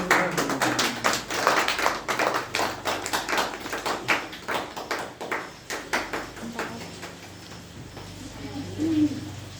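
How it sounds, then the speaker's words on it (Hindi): A family gathered to cut a birthday cake at home claps in a quick, busy patter of close hand claps for several seconds. The clapping fades toward the end, with faint voices underneath. "केक काटने समय तो ताली बजना चाहिए।"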